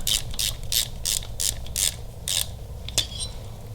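A hand ratchet clicks in about eight evenly spaced, close strokes while tightening a bolt on a Harley-Davidson Milwaukee-Eight engine during a Red Shift cam install, over a low steady background hum.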